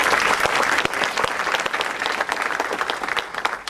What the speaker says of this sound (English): Round of applause then.